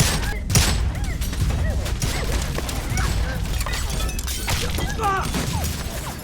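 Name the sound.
gunfire, crew shooting at police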